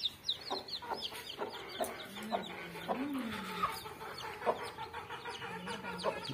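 Desi chickens cluck nearby in short, scattered bursts, with a few louder squawks mixed in and faint background noise.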